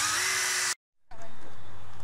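A power drill drives screws into the center of a metal line post while fence extenders are installed on a chicken-run fence; a loud steady whine runs for about three quarters of a second, breaks off into silence, then picks up again.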